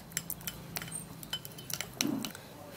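A small, very ripe fruit mashed by hand, heard as soft close squishes mixed with light clinks of a utensil against a bowl, a handful of brief taps and scrapes over about three seconds, with no voices.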